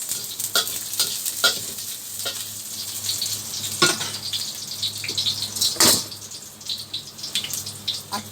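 Onion and ginger sautéing in a pan with garlic, a steady close sizzle and crackle broken by scraping stirs and a few sharper clatters of the utensil against the pan.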